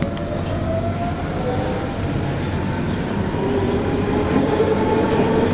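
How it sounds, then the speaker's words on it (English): A London Underground Central line train runs between Woodford and Ealing Broadway via Hainault, a steady loud rumble with rail rattle and a faint rising wheel whine throughout, no voices. "This is a central train to Ealing Broadway."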